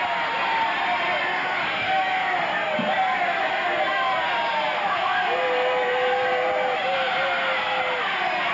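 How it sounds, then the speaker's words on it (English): Wrestling match crowd yelling and bellowing in a steady, dense roar of voices, loud and continuous throughout with a few rising shouts poking above the din. "Crowd yelling that hair was pulled."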